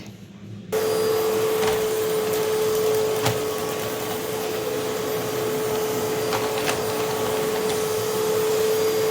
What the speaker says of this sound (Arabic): يلا بينا بقى نكنس الارض